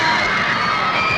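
Crowd cheering and shouting at a concert, a dense, loud wall of screams and applause-like roar that holds steady without a break.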